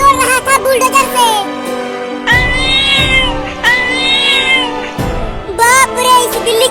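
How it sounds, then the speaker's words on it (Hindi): A cartoon cat gives loud, close, drawn-out meows and caterwauls, several in a row with short pauses between them, mixed with a voice. "ये इतनी बड़ी बिल्ली कहाँ से आ गई?"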